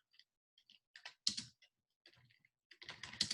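Typing on a computer keyboard, close-up irregular bursts of crisp key clicks and taps separated by brief pauses in an otherwise quiet room.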